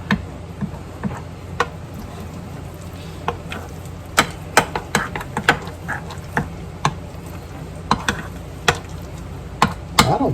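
A spoon stirs keto waffle cake batter in a bowl, giving a steady run of soft scraping with sharp clinks and taps against the bowl at irregular intervals, close up and alone.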